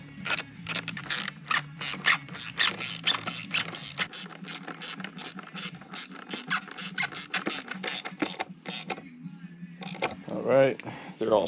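Ratchet snugging down 4mm bolts on a 2017-2020 Yamaha R6 radiator, rapid repeated clicking bursts of pawl teeth in close, steady runs, with brief pauses and a short creak near the end.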